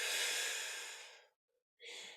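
A long, loud breathy exhale lasting over a second during a hips-and-core workout with a magic circle ring, followed by a brief silence and then a fresh, airy breath.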